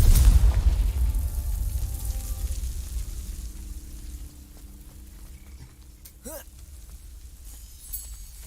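In the Hogwarts Legacy video game, a Confringo fire spell lands with a booming explosion that rumbles and fades over several seconds, followed by a few smaller pops and whooshes, with a player talking in between.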